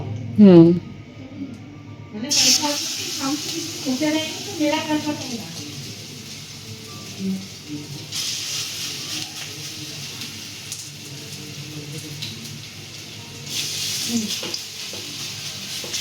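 Small lentil fritters (bada) dropped into hot oil in a village kitchen start a loud, continuous sizzle that comes and goes in waves while people talk over it.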